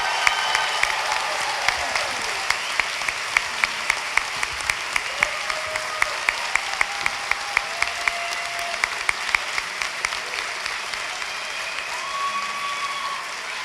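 A long round of applause for graduates at a spring commencement ceremony, dense clapping from a large crowd with occasional sharp individual claps and faint whistles and cheers.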